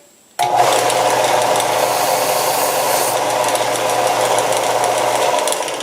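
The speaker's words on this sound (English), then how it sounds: "I'm just using belt sander." A belt sander grinding facets onto a wooden dowel spear, starting abruptly with a loud steady whirring drone and gritty abrasive hiss that holds constant throughout, close by and with no speech.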